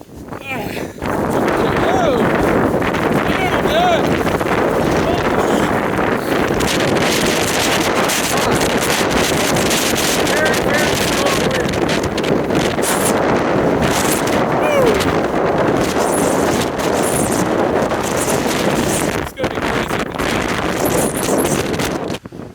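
Strong wind and rain at around 80 mph battering a hiker outdoors, a loud continuous roaring buffet of gusts against the microphone that never lets up, with a voice heard briefly under the noise.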